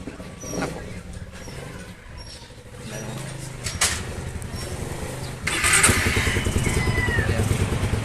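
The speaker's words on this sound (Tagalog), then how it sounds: "So papainit muna tayo ng motor." A motorcycle engine, a secondhand bike, sputters into life and settles into a steady idle while warming up, running close by with a brief clatter of revs and a louder chugging stretch near the end.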